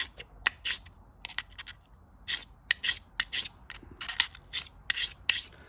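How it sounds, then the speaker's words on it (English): A tool steel blade is pushed with firm pressure across a sharpening stone in short, quick rasping strokes, crisp and close, in irregular bursts separated by brief pauses. "This tool steel needs some pressure to sharpen"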